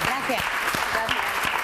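An audience claps steadily throughout, with a brief spoken word over the applause.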